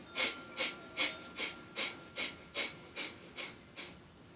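Rapid, forceful nasal exhalations of kapalbhati breathing, about ten sharp puffs in a steady rhythm roughly every 0.4 seconds, close and fairly quiet with no talking.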